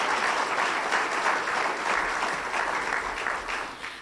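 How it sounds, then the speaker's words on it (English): An audience at a chamber of commerce holiday luncheon applauds its board members, a steady wash of clapping that holds for several seconds and slowly fades. "Please give a round of applause to your amazing board members."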